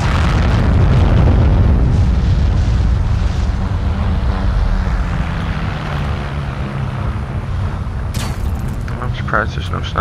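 A tank shell explodes in the Heroes & Generals video game, a heavy, rumbling boom that rolls on for several seconds and slowly fades under ongoing battle noise, with a player talking over it.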